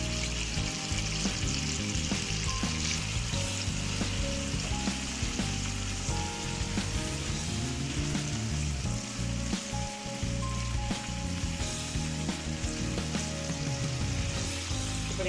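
Cut and cleaned chicken pieces fry in a pan for chicken baath, giving a loud, steady, close sizzle with crackling pops that carries on without a break and with no voices.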